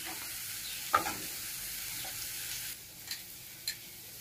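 Masala simmering in a pan with cashew-ginger paste water, giving a steady close sizzle with a few sharp spatula taps while it is stirred and sautéed.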